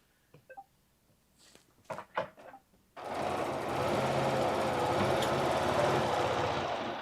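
A Bernina sewing machine runs steadily for about four seconds as it stitches across a ruler, close and continuous after a few soft handling clicks and bumps.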